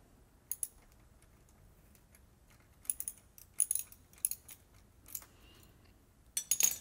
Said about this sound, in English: he's going to hold the nut on the drive block, loosen it, and remove the bolt with the socket